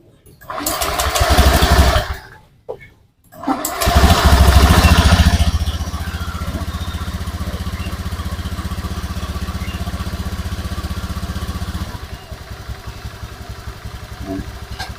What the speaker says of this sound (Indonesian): sekarang saya akan hidupkan untuk motornya